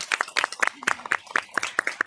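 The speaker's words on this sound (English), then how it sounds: "Let's give them a round of applause for our students" Scattered hand claps from a small audience at a school district board meeting honoring students, sparse and uneven rather than a full ovation, with the claps fairly close and distinct.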